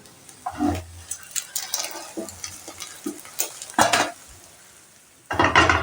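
A spoon stirs flattened rice (chira) in a pan with no oil, giving scattered scraping and clinking strokes, some louder than others, with a short burst of fuller rustling near the end.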